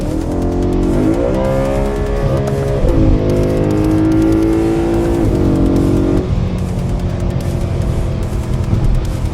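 A BMW E92 M3 V8 engine revs loudly and steadily, its pitch rising and falling through several sweeps, with no voices.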